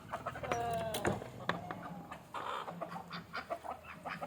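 Native country hens clucking inside a coop in the evening, several close, uneven clucks and calls overlapping with a faint background hum.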